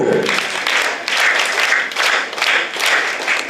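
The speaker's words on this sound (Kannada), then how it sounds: "ಚಪ್ಪಾಳೆ ತಟ್ಟಿ ಜೋರಾಗಿ, ಕ್ಲಾಪ್ಸ್ ಗೋ." Schoolchildren at a Bharat Scouts and Guides patriotic song event clap loudly, a dense, surging applause that swells and dips in waves for several seconds with no speech over it.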